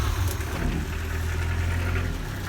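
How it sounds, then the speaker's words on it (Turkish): A Suzuki Carry small truck engine idles steadily nearby, a low constant rumble with a faint rattling knock, running alone without pauses. "Motorun sesi çok iyi."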